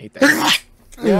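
A short burst of sneeze-like noise during a hectic modded Left 4 Dead 2 co-op session, set among people's voices talking and reacting.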